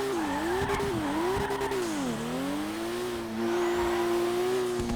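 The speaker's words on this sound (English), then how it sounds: "I don't think I've actually heard that whooshing from another car." A car engine in a racing video game drones and whooshes steadily at speed, its pitch rising and dipping with throttle changes and light tyre noise, loud and continuous with no talk.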